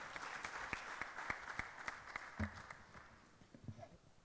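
An audience at an electronics supply chain conference inaugural session breaks into applause, a fairly faint, distant wash of clapping with a few sharper individual claps that gradually thins out toward the end.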